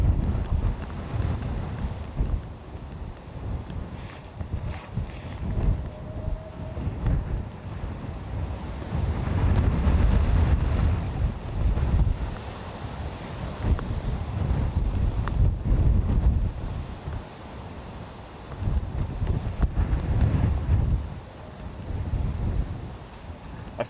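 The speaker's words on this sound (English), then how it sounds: "it's going to bring in some mad gusts by the feel of things already" Strong gusty wind buffets an outdoor microphone at an airport, a loud continuous low roar swelling and easing in surges, with no talking.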